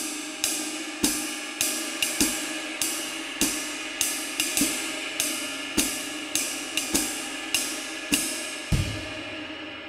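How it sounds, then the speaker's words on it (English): Jazz ride cymbal pattern on a drum set, steady pulse with an added eighth-note stroke right after beat one, close and bright, the cymbal wash sustaining under the repeating rhythm with no voices. "Variation number one is adding an eighth note right after beat one"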